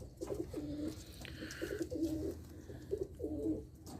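A pigeon coos close by in repeated soft, throaty burbling phrases, three or four rounded bursts spaced about a second apart over a low background hum.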